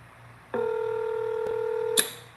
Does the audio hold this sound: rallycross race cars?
no